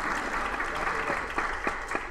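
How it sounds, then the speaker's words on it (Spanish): An audience gives steady, even applause to welcome a lecturer at a conference, a continuous wash of many hands clapping at moderate volume with no voices over it. "lo recibimos por favor con un muy fuerte aplauso"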